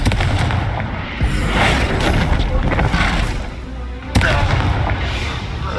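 Fire-blasting spell explosions in the Hogwarts Legacy video game, a dense run of booming blasts with a sharp loud burst near the end, heard amid continuous game noise and a spoken spell incantation.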